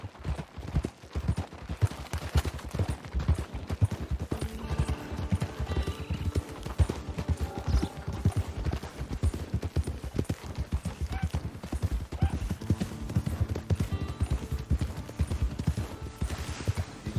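Horse hooves clip-clopping in the video game Red Dead Redemption 2, a brisk continuous rhythmic trot close up, with occasional whinnies and distant gunfire layered over ambient game sound.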